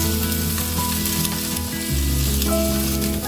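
King fish sizzles loudly and steadily in a hot grill pan, a dense continuous hiss close up with a low hum running underneath and no voices.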